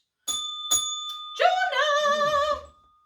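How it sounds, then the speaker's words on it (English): A bell rung during a children's lesson: two quick bright dings followed by a longer ringing chime, loud and close, with no voices over it. "If I ring my bell, Vincent, would you ring my bell and shout"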